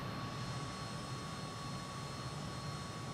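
Steady, continuous jet engine roar of a MiG-21 in Microsoft Flight Simulator 2020, a broadband hum with a faint high whine, holding constant at moderate level throughout with no talk.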